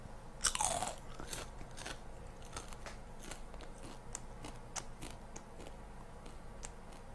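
Close crunching and chewing of a tiny edible insect seasoned with sweet chili, with a loud crunch near the start, then steady irregular chewing and crackling with no talking.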